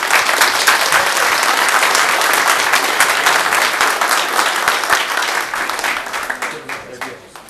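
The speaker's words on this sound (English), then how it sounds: "One last round of applause." A dense, steady round of audience applause fills a city council meeting in Kyle, then thins into scattered claps and fades near the end.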